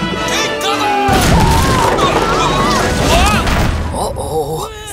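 Gunfire and explosion effects in a Playmobil movie, a loud dense barrage of booms and crashing blasts that runs for several seconds under a musical score before cutting off abruptly.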